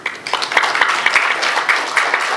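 An audience claps in welcome as Arif Raza is called to the stage at the grand opening ceremony of the Lovebird Society of Karachi; dense, steady applause fills the whole stretch with no voices.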